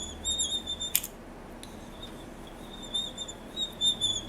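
Polymer clay extruder squeaking faintly as clay is pushed through, with thin high-pitched squeals recurring in short bursts and a sharp click near the start, quiet and close.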